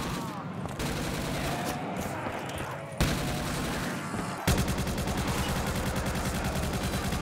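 AK-12 rifle fire in the video game Call of Duty, loud rapid automatic bursts that run almost continuously, with a heavier burst starting midway.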